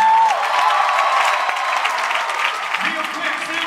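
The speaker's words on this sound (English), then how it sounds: "Give God a round of applause here tonight." Dense concert crowd applause with some cheering at a live Christian band show, a continuous loud wash of clapping with a voice briefly audible over it.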